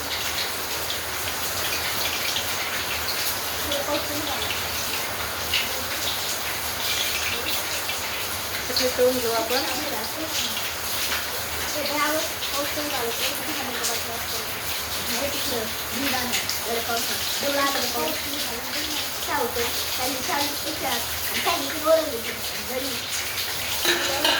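Chakli fry in hot oil with a dense, steady crackling sizzle like rain, heard close and continuous.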